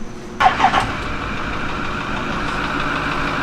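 A 6.0 Powerstroke diesel truck engine being cranked in a hard start attempt, with a short burst of rough mechanical chugging followed by a steady, dull grinding drone, close and fairly loud, with no voices.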